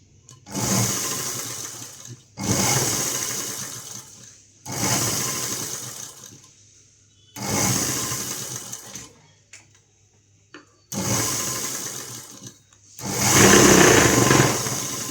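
A sewing machine stitches folded cloth on a baby frock in six loud runs of one to two seconds each, separated by short quiet pauses, with the last run the strongest.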